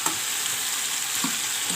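Tandoori chicken pieces sizzle steadily in a hot pan, a continuous close frying hiss with faint stirring touches and no voices.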